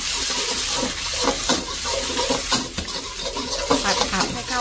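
Egg stir-fried with garlic in a wok for nang fried rice, a dense, continuous sizzle with rapid scraping and clinking of a spatula against the pan, close and steady throughout.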